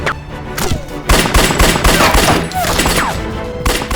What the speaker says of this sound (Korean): 레이는 조명호 전 대통령을 향해 총을 쏘고